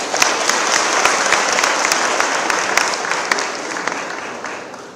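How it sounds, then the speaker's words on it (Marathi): A crowd at a political rally claps loudly and continuously for several seconds, a dense patter of many hands close by. "जोरात टाळ्या होऊ दे ना."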